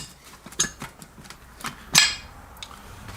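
A driver is hammered to knock the old bushing out of a C6 transmission from a 1980 F-350 service truck, giving a few sharp metallic strikes at uneven intervals, the loudest ringing near the end.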